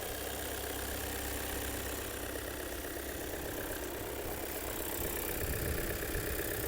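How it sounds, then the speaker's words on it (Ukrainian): A 2021 Volkswagen Passat Alltrack 4Motion engine idles throughout, an even low rumble with a constant mechanical hum and no voices. "Моторчик працює гарно"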